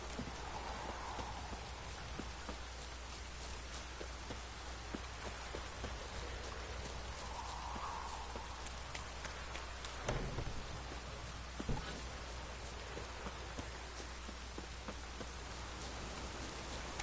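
Steady pouring rain fills the scene in The Witcher 3, a dense continuous hiss with a faint rumble near the end and no voices over it.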